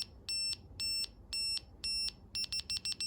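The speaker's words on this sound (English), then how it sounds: "we're hearing a level 1 alarm. So about 18 seconds to a collision if we don't do anything" A FLARM collision warning in an aircraft cockpit sounds as a loud, piercing electronic tone in regular repeated pulses, quickening into rapid bursts toward the end, with no talking.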